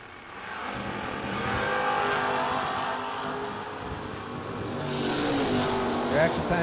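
Drag race cars, a Ford Mustang and a Chevy Camaro, launch and run at a drag strip during a season kick-off event, a steady loud engine roar throughout with a commentator talking over it.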